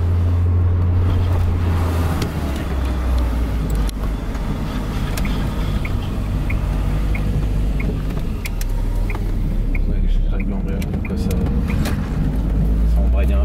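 A Volvo 480 turbo rolls along the road with a steady low engine drone and road rumble heard from inside the cabin, while occupants talk over it and faint ticking sounds come and go.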